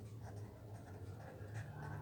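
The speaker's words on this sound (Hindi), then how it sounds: "यहाँ मैं लिख देती हूँ" Faint scratching of a pen or marker writing on a board during a physics lesson, steady and close over about two seconds above a low electrical hum, with no talking.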